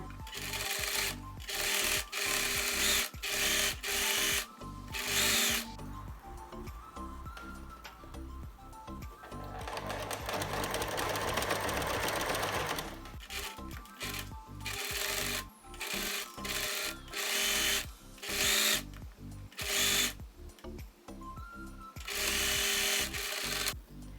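A sewing machine stitches close along the edge of a pinned, folded fabric strap for a face mask. The motor whirs in repeated loud runs broken by short stops, with one longer steady stretch midway.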